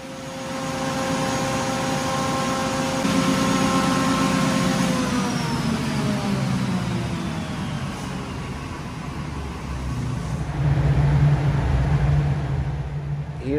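A ship's emergency diesel generator engine runs loud and steady nearby, a continuous mechanical drone with shifting tonal whine, without talk.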